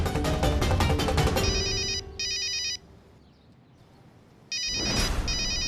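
A telephone ringtone in a Hindi TV serial rings out in two loud repeating bursts, pausing into near silence before ringing again.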